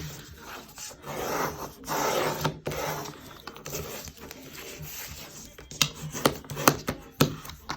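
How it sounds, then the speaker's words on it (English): Paper pocket edges being burnished for a Halloween 8x8 mini album, with a tool rubbing and scraping across paper in uneven strokes, then a run of sharper quick rubs toward the end. "so just burnish those edges"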